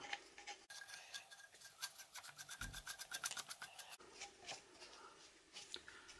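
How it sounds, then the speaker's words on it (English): A side handle is screwed onto a Ferrex Pro 40V brushless cordless combi drill, giving a close, rapid ratcheting rasp of plastic threads in quick repeated clicks. "So now I'm going to screw the handle on."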